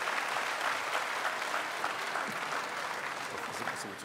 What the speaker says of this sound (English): Now give Professor Al-Hassan SEIDU a round of applause.